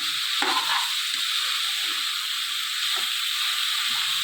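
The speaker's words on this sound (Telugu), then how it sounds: "దొండకాయలు వేసుకుని కలుపుకుందాం." Ivy gourd (tindora) stir-frying in oil in a pan, a loud, dense, continuous sizzle close by, with a few soft scrapes and knocks of the spoon as the pieces are tossed.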